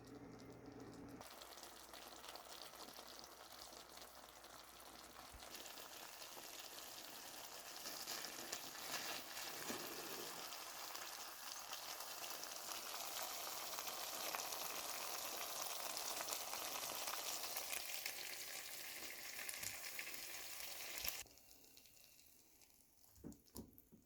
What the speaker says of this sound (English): Now we're going to cook this for 3 to 4 minutes with no lid on.